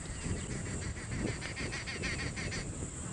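On a sunrise safari drive, a group of arrow-marked babblers gives a fairly faint, harsh chattering chorus of rapid repeated calls for a couple of seconds over a steady background hiss and low rumble.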